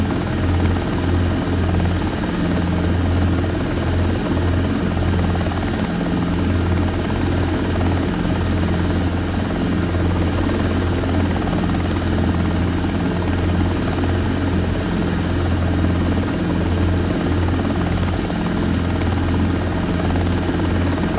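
Robinson R22 helicopter hovering, a loud continuous rotor thrum and engine drone held steady throughout with no talk over it.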